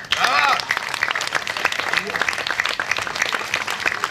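Applause from an audience, a continuous patter of many hands clapping, with a voice calling out briefly at the start.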